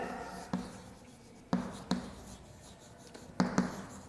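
Chalk or marker strokes on a classroom board during an English grammar lesson, a few separate short scratchy bursts spaced over several seconds with quiet between them.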